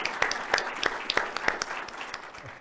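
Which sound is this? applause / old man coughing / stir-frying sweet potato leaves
applause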